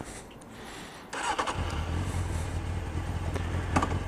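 A 2005 Honda CBF 600 ABS motorcycle engine cranks briefly and then catches, settling into a steady low idle that stays close and even, with no one speaking.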